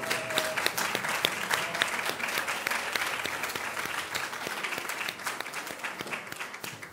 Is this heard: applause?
yes